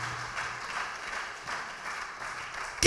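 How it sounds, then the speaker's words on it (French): A congregation at a church worship service applauds steadily, a dense, even wash of clapping with a faint hum underneath. No one speaks over it. "Acclame très très fort Jésus. Gloire à Jésus."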